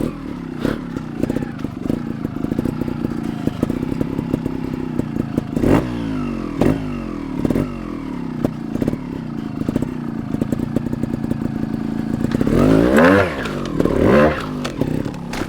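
A 2021 GAS GAS 300 TXT Racing trial motorcycle rides along in second gear. The two-stroke engine chugs close and loud throughout, blipping and revving in bursts, with clatter from the terrain and a hard surge of throttle near the end.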